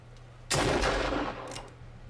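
A single loud gunshot blast from a pistol in a film being watched. It booms out and then rumbles briefly, over a steady low background hum.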